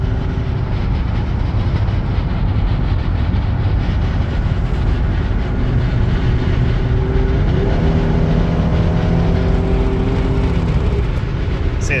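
Car engine accelerating on a freeway with a shaking steering wheel, a steady loud rumble of engine and road noise, with rising harmonic tones in the second half as revs climb.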